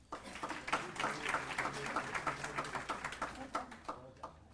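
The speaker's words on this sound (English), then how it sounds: "Can we give him a round of applause?" An audience at a youth conference claps in a faint, fairly sparse round of applause, with scattered individual claps heard from a distance.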